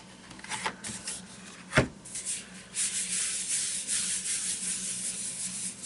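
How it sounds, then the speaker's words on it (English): Fingertips rub paper against a gel printing plate for a sweet pea print, making soft dry scuffing strokes, with one sharper brush midway, close and fairly quiet and without talk. "Rub with my fingers."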